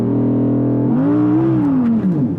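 An Audi R8 V10 launches on a slippery track with cold tyres, its engine note climbing as the wheels spin up, then sagging and bogging down before recovering; loud, close and without voices.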